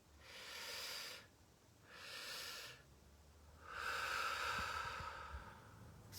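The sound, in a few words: slow exhale during a breathing exercise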